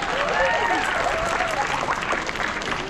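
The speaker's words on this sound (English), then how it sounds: "Yeah, give him a round of applause." A crowd applauds steadily at a seal and sea lion show, dense clapping filling the space at a strong, even level, with faint higher calls or voices weaving through the noise.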